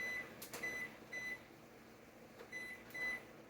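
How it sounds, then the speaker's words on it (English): A microwave oven runs in a home kitchen with a faint steady hum, and thin tonal beeps come and go over the low whirr, with no one speaking. "All right, microwave's going."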